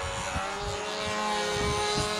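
A radio-controlled Windy U Master model airplane flies with a steady, faint, high engine drone that stays level throughout, with light low thumps beneath it.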